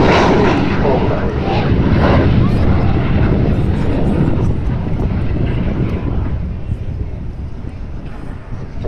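Avro Vulcan XH558 bomber thunders past at Farnborough Airshow, a loud broad jet roar that swells and then slowly fades as it moves away, with wind buffeting the microphone and crowd voices underneath.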